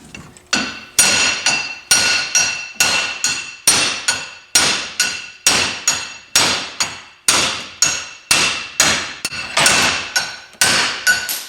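U-joint bearing caps are pounded out with a hammer during a twin-turbo 5.2 Magnum build: a steady series of loud, sharp metallic strikes, about two per second, each ringing briefly before the next blow.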